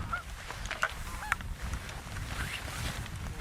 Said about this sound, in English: Geese are coming back.